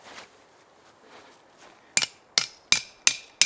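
A hammer drives tent pegs into frozen ground at a winter camp with an inflatable hot tent: five sharp, ringing metallic strikes in a steady rhythm, close and loud after a quiet start.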